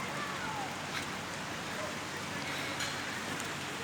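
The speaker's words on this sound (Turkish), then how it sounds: "Yağmur başladı şu anda." A soft, even hiss of light August rain beginning to fall near Ankara Castle in Ankara, with a few faint drop sounds, heard outdoors at low volume.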